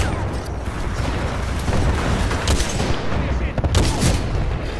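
Sniper and laser weapon fire in Titanfall 2, loud continuous barrage of shots with sharp cracks near the end, dense and close throughout.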